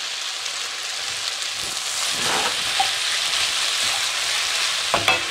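Onion sizzles and fries in a hot pan for a chicken ginger stir fry, a continuous hissing crackle with occasional stirring clatters and no talking.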